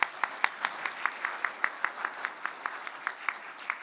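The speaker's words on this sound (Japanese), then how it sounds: "会場の皆様、もう一度ご登壇の皆様に拍手をお願いいたします。" An audience applauds at the close of a symposium session on robotics and industrial IoT, a steady round of evenly spaced claps from a modest crowd in a hall, moderately distant.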